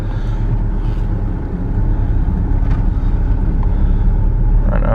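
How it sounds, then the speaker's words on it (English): Steady low rumble of a car driving slowly, heard continuously from inside at a constant level with no change in pace. "Right now I'm going to drive this pretty slow because I don't want to do anything too rash."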